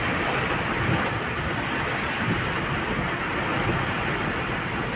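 Heavy typhoon rain pours onto a flooded, traffic-choked road, a dense, steady roar of falling water close by with no break and no talk.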